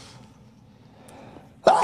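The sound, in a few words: sneeze from seasonal allergies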